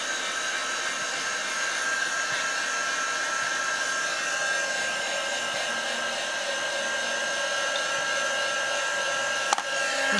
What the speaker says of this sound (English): So I'm gonna dry the middle part again.